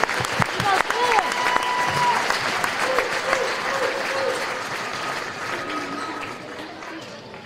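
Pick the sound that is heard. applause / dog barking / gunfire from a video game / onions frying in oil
applause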